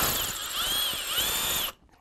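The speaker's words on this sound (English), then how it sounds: "I'm sure this drill bit's nice and sharp now." Drill bit boring holes through a STIHL chainsaw bar, worked slowly like a drill press: a steady high whining grind with rising and falling pitch for about 1.7 seconds, close up, then it stops abruptly.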